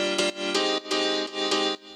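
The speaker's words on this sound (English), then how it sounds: "I used M1 piano 8" M1 Piano 8 patch played solo for a house track, a stereo-widened layered piano giving rhythmic chord stabs roughly every third of a second, bright and punchy, close and alone with no talking.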